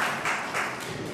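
Meeting audience claps together in a brief, dense wash of applause with slight swells, steady and fairly loud throughout.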